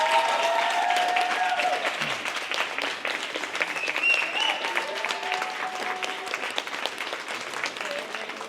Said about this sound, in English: So let's give a huge round of applause for these guys.